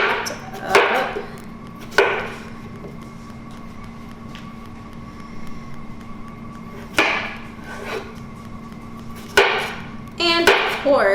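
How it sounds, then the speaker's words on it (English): A knife chops cucumbers on a cutting board in separate sharp bursts of rapid strokes, with quieter pauses between the bursts and a faint hum underneath. "Let's get these all chopped up."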